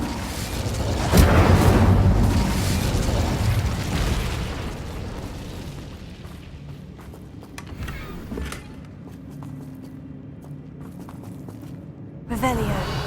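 A fire spell cast in Hogwarts Legacy, a loud whooshing burst that roars for a few seconds, fades into crackling ambience with a scuffing footstep, then a second bright burst near the end.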